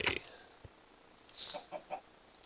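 Minecraft chicken clucks in a few short, soft calls near the end, following a brief sharper sound at the start, with no speech over them.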